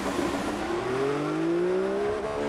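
A Williams Formula 1 car in F1 2014 pulling out at Albert Park, its engine note rising steadily in pitch as it accelerates, loud and close, with no talk over it.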